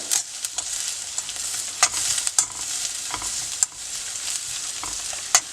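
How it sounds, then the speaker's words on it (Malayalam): Beetroot chutney mixture frying in a pan while being stirred nonstop: a constant soft sizzle under repeated scraping and sharp spatula taps against the pan, close up and without speech. "അപ്പോൾ നമ്മൾ കൈ എടുക്കാതെ ഇങ്ങനെ ഇളക്കിക്കൊണ്ടിരിക്കണം"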